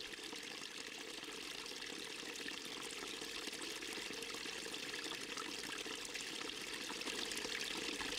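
Meltwater flowing on and beneath a glacier, a faint continuous trickling and rushing wash of water with no voices.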